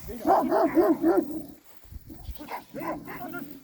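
A female dog, a Kangal, barks in a quick run of several yaps, then pauses and barks twice more, fairly close, with faint background noise between.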